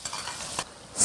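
Aromatics stirred and frying in rapeseed oil in a wok for a Sichuan-style dish, a brief close sizzle with a scraping stir partway through and a brighter hiss rising at the end.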